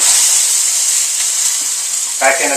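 Grain-free mini pizzas fry in a pan with a loud, steady sizzle and hiss that carries on throughout, with a brief burst of clatter near the end.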